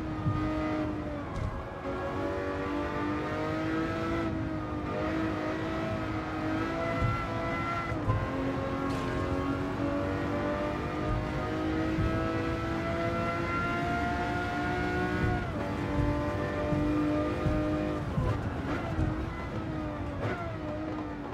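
A Lamborghini Murcielago LP 640 from 2009 races in Gran Turismo 7 at Tokyo, its engine wailing at high revs with rising and falling pitch through gear changes, loud and constant throughout, with no one speaking.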